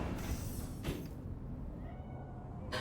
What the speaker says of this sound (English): Kitty! Hi! I love you, Kitty.